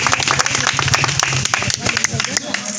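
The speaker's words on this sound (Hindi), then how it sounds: "तो तनी ताली बजा दें" A crowd claps along at a street comedy act during a Nautanwa assembly election campaign, with dense, steady applause continuing under loud talking throughout.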